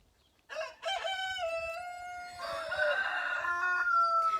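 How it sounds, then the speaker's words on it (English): A rooster crows nearby, a long loud cock-a-doodle-doo rising and stretching out, with no other sounds around it. "So right in here we have our roosters."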